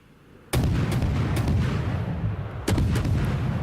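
Warship main guns firing in World of Warships, two heavy booming salvos, the second about two seconds after the first, each with a sharp onset and a long rumbling tail, loud and close with no talk.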